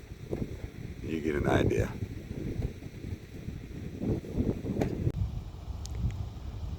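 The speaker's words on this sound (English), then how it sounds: "The wind's blowing, so the camera may be shaking a little bit." Wind gusts buffet the microphone outdoors at Monument Valley in the Navajo Nation, Arizona, making low rumbling blasts that rise and fall beneath a man's speech, with brief rustles and clicks.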